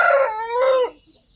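A fighting cock on a farm crows loudly and close for about a second, a strong harmonic call with rising and falling pitch, then cuts off to near silence with a faint trailing cluck.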